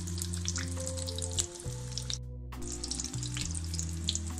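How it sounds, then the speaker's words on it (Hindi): Vegetable kachori frying in oil over a low flame, a soft crackling sizzle with fine bubbling pops, over a steady low hum that cuts out briefly partway through. "इसको हम बस हल्की आंच पे ही फ्राई करेंगे, तेज़ आंच नहीं रखेंगे"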